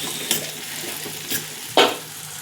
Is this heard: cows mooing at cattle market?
no